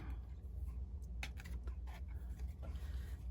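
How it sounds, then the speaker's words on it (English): Scissors snip and trim the edges of card stock for a handmade greeting card, with a few quiet, crisp cutting and rustling sounds up close and no talking. "and grab your scissors"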